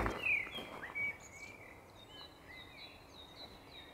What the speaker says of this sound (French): J'entends jamais les oiseaux chanter aussi fort la journée.